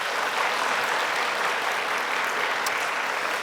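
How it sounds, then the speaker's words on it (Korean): A church congregation at a Friday evening worship service breaks into steady, dense applause, loud and continuous throughout with no talking over it. "영광의 박수 한번 올려드리도록 하겠습니다."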